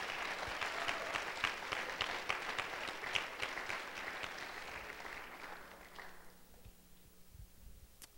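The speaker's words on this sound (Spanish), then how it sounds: "Give an applause to the King." A church congregation applauds, the clapping dense and lively at first, then thinning and fading over several seconds into quiet.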